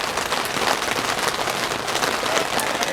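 Steady rain pattering outside a greenhouse during an autumn thunderstorm, a dense, even hiss of drops that holds at the same level throughout with no voices.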